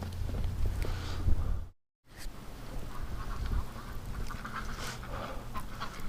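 Ducks quack outdoors in a snowstorm, faint calls scattered over a windy, rushing background, with a short dropout partway through; no talking.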